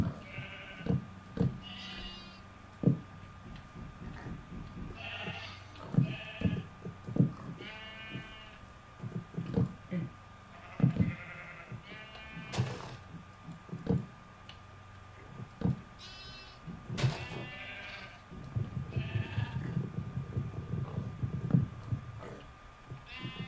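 Minecraft sheep bleat again and again in short, wavering cries scattered among sharp game clicks and ticks, clear and fairly close.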